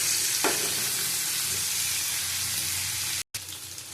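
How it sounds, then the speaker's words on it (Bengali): Pumpkin, potato and ridge gourd with sugar and whole chillies frying in a pan, a steady close sizzle with stirring scrapes, briefly cut off near the end. "ভালো করে ভেজে নেব।"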